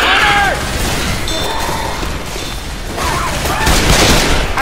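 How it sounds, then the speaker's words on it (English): Gunfire crackles through a chaotic Left 4 Dead 2 firefight, with rapid shots and crashing impacts mixed under overlapping voices. "Yo, coach, stop shooting."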